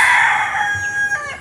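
A rooster on a game farm in the Philippines that raises chickens and pigs crows once, close and clear, with no other sounds around it.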